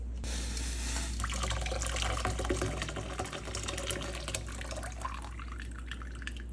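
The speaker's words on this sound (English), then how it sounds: "Use cool water to wash it. Put it in the cold water" Tap water running steadily into a sink to rinse freshly cooked boba pearls in cold water, a continuous splashing gush with small drips, close and alone.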